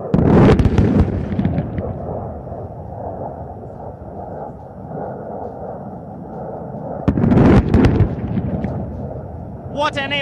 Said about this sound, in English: Watch how the bombs glide towards the target.